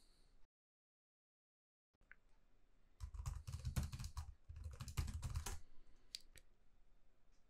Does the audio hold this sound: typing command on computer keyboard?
yes